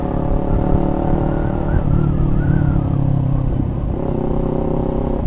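A motorcycle engine revs loudly and continuously nearby, its pitch rising and falling with throttle blips, no voices over it.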